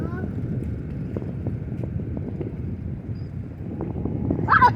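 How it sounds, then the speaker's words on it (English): Wind blowing on a breezy day at the beach, a steady low rumble buffeting the microphone throughout, with a faint voice near the end. "The wind is blowing. It is a beautiful, nice, breezy day."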